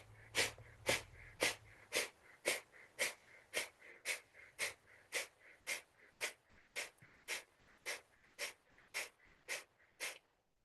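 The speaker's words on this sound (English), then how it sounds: "we'll begin the breath of fire" Kundalini yoga breath of fire, about twenty sharp rhythmic exhalations through the nose, evenly spaced close to two per second, close and fairly quiet, with no talk over them.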